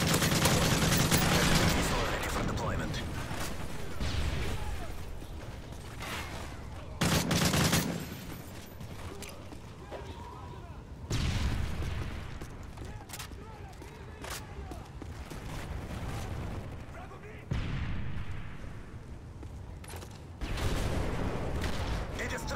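Rapid AK-47 gunfire from the Call of Duty 4 video game, with repeated bursts and loud shots across the whole stretch, mixed with game effects and no clear talk.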